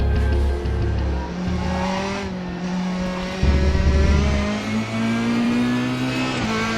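DTM 2002 race car from the Raceroom racing game, a Mercedes CLK or Opel Astra, roars loudly and steadily with a revving engine. Pitch rises and drops through gear changes, with a brief tire squeal.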